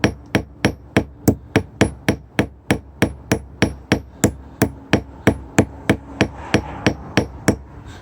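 A hand hammer peens a metal chain loop with a long, even series of sharp ringing blows, about three per second, close and loud with no talking.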